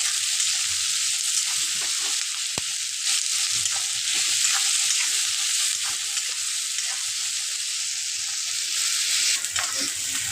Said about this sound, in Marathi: कांदा आपला आता परतत आला आहे,